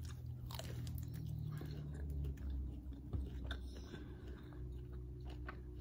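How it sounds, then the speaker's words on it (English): Someone chews a Roger Wood sausage close up, with steady wet biting and mastication sounds running continuously and no talk over them. "Let me taste the sausage"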